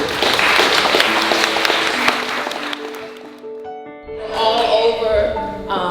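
Guests at a diamond anniversary celebration applaud the couple, loud clapping that fades after a few seconds into quieter sound, with a voice rising near the end.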